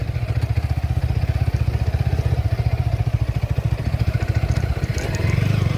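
A motorcycle rides downhill through a tea garden in Sylhet, its engine a close, steady, rhythmic chug that throbs evenly throughout, with a slight rise in the throttle near the end.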